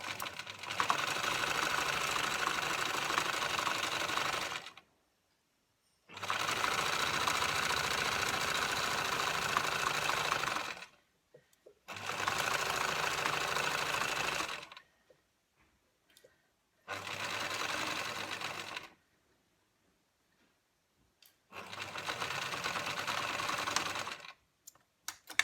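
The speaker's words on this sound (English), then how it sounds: "I just sewed over a pin, not very good." A sewing machine stitches fabric for a triangular neck pillow in five separate bursts of steady, rapid whirring, each a few seconds long, with quiet pauses between them.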